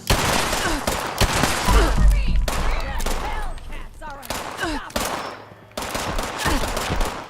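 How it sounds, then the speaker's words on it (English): Rapid bursts of pipe-weapon gunfire in the Fallout 76 video game, loud and near, with repeated volleys and brief pauses, over game sound effects. "look, they're shooting at me with pipe weapons"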